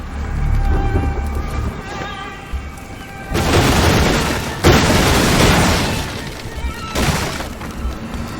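Loud, booming blasts and crashing debris in the dark fantasy game Graven as the Inflame spell sets off a chain reaction of destruction, with several heavy bursts following one another over rumbling aftermath.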